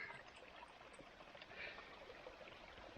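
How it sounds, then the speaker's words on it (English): Water of a river rushing past at a fell river crossing in the Lake District, a steady broadband flowing wash with brief splashy swells, close and continuous with no talking. "Uh-oh, river crossing."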